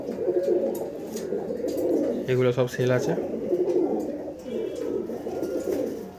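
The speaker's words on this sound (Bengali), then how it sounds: "বন্ধুরা পায়রা দেখো, পায়রা শখ করো।" Madras pigeons in a breeding loft give a short burst of cooing midway through, heard under someone talking close by, with soft loft noise throughout.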